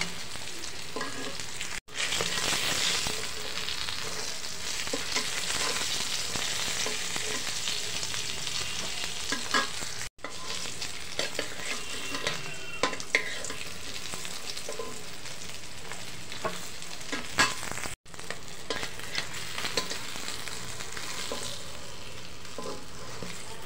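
Fish fry in hot oil with a dense, continuous crackling sizzle, close and loud throughout, broken only by a few brief dropouts.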